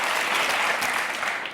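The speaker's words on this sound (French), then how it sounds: "On vous laisse repartir sur les applaudissements du public." Studio audience applause on a French TV talk show, a steady, dense wash of many hands clapping at full volume for the whole short stretch, with no talking over it.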